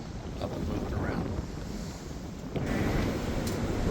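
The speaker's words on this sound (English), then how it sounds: "we've got a very windy day" Strong wind on a sheep farm on a cold late-November day, a loud continuous roaring buffet across the microphone that swells slightly toward the end.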